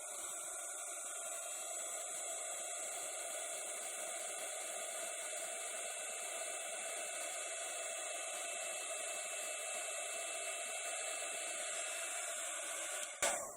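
A heat gun blowing on stamped, inked copper, a steady close whooshing roar of hot air holding constant throughout, ending with a brief clunk.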